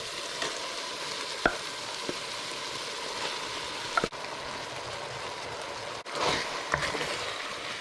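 Curry paste sizzling in a pan of lamb korma as it is stirred through, a continuous frying hiss broken by a few knocks and scrapes of the spoon, close and moderately loud, with no talking.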